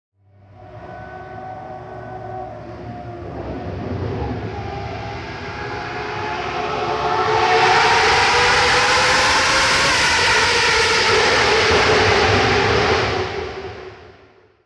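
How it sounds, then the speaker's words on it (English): Gordon Murray T.50s V12 engine revving up, a loud rising mechanical wail that swells, holds at a high-pitched scream, then cuts off abruptly at the end. "It's lighter, louder, and one of the best sounding versions of this V12 yet."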